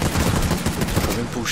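Rapid automatic gunfire in the video game Fallout 76, a dense close burst of shots lasting throughout, with a voice faintly underneath.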